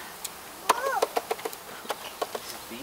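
Honeybees buzz faintly while a hive is installed, and a few sharp taps and knocks stand out above the soft hum. Voices speak briefly in the background.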